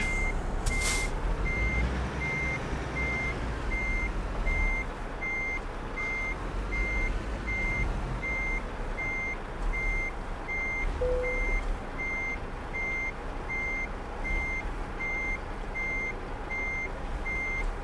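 Truck reversing beeps in Euro Truck Simulator 2 repeat in a steady, evenly spaced pattern over a continuous low engine rumble throughout, with no talking.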